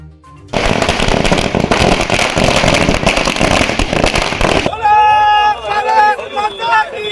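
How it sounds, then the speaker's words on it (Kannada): Dense rapid bursts of firecrackers crackle and pop loudly in a continuous barrage at an election victory celebration in Basavakalyan, Karnataka, then give way to music and a crowd's noise. "ಬೆಂಬಲಿಗರು ಪಟಾಕಿ ಸಿಡಿಸಿ"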